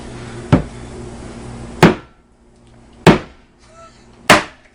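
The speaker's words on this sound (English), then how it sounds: "I'm going to try to crack it on the counter first" Four sharp knocks of a large egg striking a hard kitchen counter, spaced about a second apart, close and fairly loud, with quiet pauses between.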